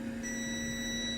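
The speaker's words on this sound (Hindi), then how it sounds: "बीप आ रही है, ठीक है, आपको बीप सुनाई दे रही है" A multimeter in continuity mode gives an unbroken electronic beep while probing a shorted line on a Vivo Y12 phone board. The tone is steady, moderately quiet and lasts the whole moment without speech.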